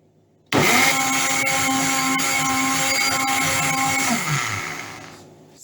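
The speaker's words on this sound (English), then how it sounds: "And I will get it blended." An electric blender switches on abruptly, whirs loudly and steadily for a few seconds, then winds down and fades out.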